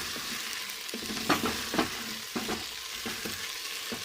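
Okra with green chillies frying on high heat in a pan, with a steady close sizzle broken by several sharp scraping stirs of a spatula.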